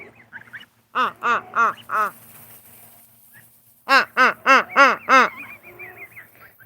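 Geese with their goslings honking loudly and close by in two rapid bursts of four or five nasal honks each, with quieter chatter and gaps in between.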